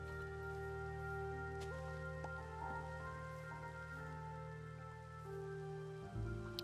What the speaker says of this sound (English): And the rain sounds now.